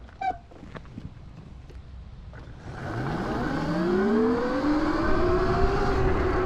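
An electric dirt bike, a Kawasaki KX85 fitted with a Wired GK-85x conversion kit, accelerates off-road, its motor whine rising steadily in pitch and growing louder after a quiet start with a few light knocks.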